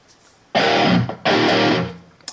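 Two distorted electric guitar strums through a Blackstar ID Core amp preset with no reverb, each chord loud and crunchy, then cut off dry with almost no tail.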